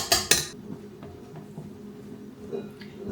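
A utensil works keto bread batter together with whipped egg whites in a bowl, giving a couple of sharp, close clinks at the start, then soft, quiet scraping and light taps.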